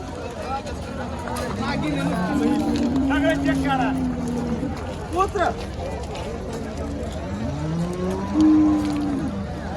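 Deep, drawn-out buffalo moos rise and fall several times, close by, with steady outdoor background noise at a buffalo market in Ghodegaon.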